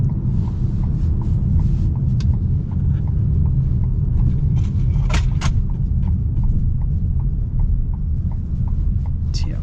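A 2026 Ford Maverick Lobo pickup rolling over bumps, with a steady low road rumble inside the cab and a run of light rhythmic knocks and thumps from the suspension, loud and continuous.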